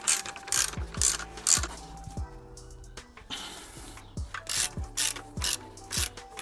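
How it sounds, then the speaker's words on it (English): A ratchet clicks in bursts while tightening the strut top mount bolt on a mk8 Honda Civic front strut assembly, with a hex key holding the shaft still. It sounds close and fairly quiet, broken by a short pause midway. "So we're gonna keep the shaft from moving and tighten up the bolt in the same time."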